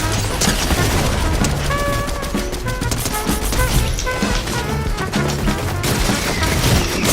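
Rapid bursts of MK-Alpha assault rifle fire in the video game Fortnite, loud repeated shots with metallic impacts and short ringing tones, continuous over background game music and effects.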